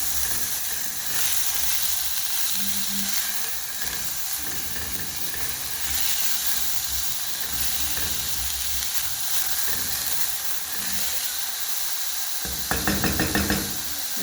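Onions frying in a pot of soup, a steady broad sizzle filling the clip close up, with a brief burst of clattering knocks near the end.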